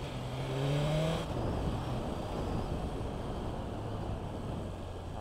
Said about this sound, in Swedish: Där, då är det dags att köra högfartsbanan med en S1000 RR.